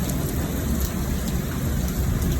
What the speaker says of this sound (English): nice heavy rain is coming down at about 3/4 of an inch an hour